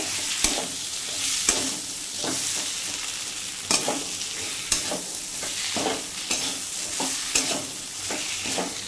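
Pointed gourd frying with well-cooked masala in a pan, a steady hissing sizzle with repeated scraping stirs of a spatula at irregular intervals, close and moderately quiet with no voices.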